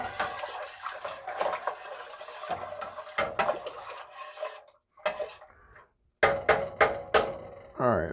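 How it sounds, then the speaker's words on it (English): Spoon stirring sugar into hibiscus tea in a pot, giving intermittent clinks and scraping with liquid swirling, near and moderately loud, broken by brief pauses and a few sharp knocks toward the end. "And stir until dissolved."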